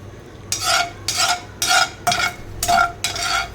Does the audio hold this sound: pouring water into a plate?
no